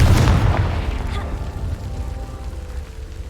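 A Confringo blasting spell detonates in Hogwarts Legacy with a loud, close boom that rumbles and decays over a few seconds, no voices.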